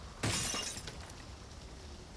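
A glass window shatters in a Left 4 Dead apartments map, one sharp crash followed by a short tinkling tail that fades into quiet room tone.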